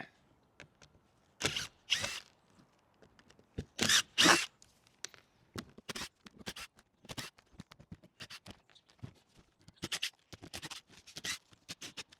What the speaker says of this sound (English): Now it's just a case of undoing about 300 screws and getting these panels off.